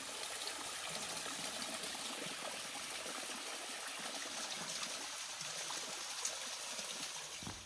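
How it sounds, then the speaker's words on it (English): Constant, gentle rush of a small stream water source along the Pacific Crest Trail near Snoqualmie, trickling and gushing evenly throughout with no voices. "let me show you this water source real quick. It's a pretty nice one."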